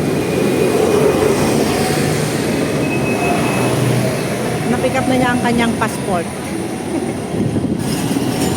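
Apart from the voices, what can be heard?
tram running on rails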